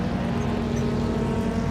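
A field of TCR touring cars roars off the line at a sim racing start at Silverstone, a dense, steady engine drone with a strong low hum, loud and continuous with no talking.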